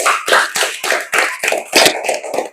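Audience applause at a school event in Indonesia, a burst of clapping from a crowd, steady and fairly loud, with rhythmic swells of hand claps and no talking.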